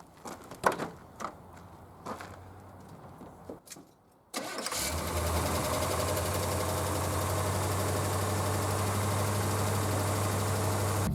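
A 1982 Chevrolet Corvette C3 cranks briefly after some clunks and handling noises, then fires up and settles into a loud, steady idle with a deep, constant rumble that carries on without a break.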